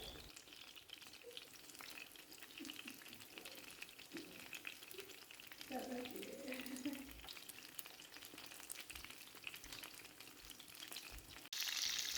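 Tomato slices fry in a pan, a faint, steady sizzle with soft crackles and a few light stirring sounds.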